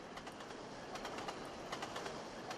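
A video game train in Trainz: A New Era, on the Settle and Carlisle route, rolls slowly into Appleby Station with soft, repeated clicking from the wheels over the rails, a steady low hum beneath, fairly quiet.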